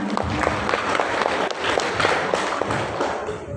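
Audience applause at a high school graduation farewell ceremony for the 32nd class of students: a steady, dense wash of clapping that fills the room for several seconds, with faint voices mixed in.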